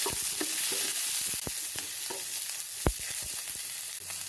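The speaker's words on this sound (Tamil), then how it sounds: "இதோட சின்ன வெங்காயம் போட்டு நல்லா வதக்கிடலாம்." Shallots, garlic, mustard seeds, cumin, dried red chillies and curry leaves sautéing in a pan, a soft steady sizzle with repeated scraping and stirring knocks from a spoon, close by and without speech.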